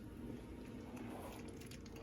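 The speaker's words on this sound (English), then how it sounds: "now grab this and pour it into that pasta and just toss it that way" Sauce being poured into pasta in a home kitchen for shrimp Alfredo, a soft steady liquid pour and light stirring that runs quietly and evenly for the full stretch, with no talk.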